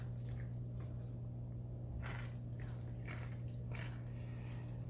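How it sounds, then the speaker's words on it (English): A can of drained beans being stirred into a pot of soup, making soft, wet squishing sounds that are faint beneath a steady low hum. "Now I'm putting in a whole can there. I'm gonna stir it around."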